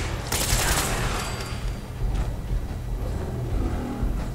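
Turret gunfire in Fallout 4's Nuka World, a dense burst of rapid shots at the start that settles into continuous rattling combat noise.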